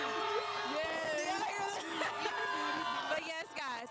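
Crowd at a high school basketball game between Southwind High School and Pure Academy, whoops and yells rising in a dense, steady roar with voices throughout.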